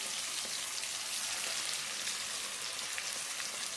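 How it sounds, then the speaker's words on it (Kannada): Chicken pieces fry in hot oil in a pan, making a steady, dense sizzle with fine crackling that holds throughout, close and even. "ಎಣ್ಣೆ ಕಾದಿದೆ. ಇವಾಗ ಚಿಕನ್ ಹಾಕ್ತಾಯಿದ್ದೀನಿ."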